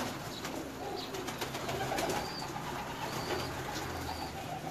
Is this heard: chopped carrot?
no